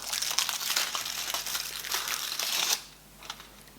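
Foil wrapping on KitKat Chocolate Orange fingers crinkles and crackles close up for nearly three seconds as it is peeled open, then fades to a few faint rustles.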